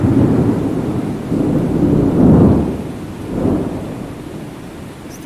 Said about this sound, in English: It's always useful to have some thunder strikes and rain, always.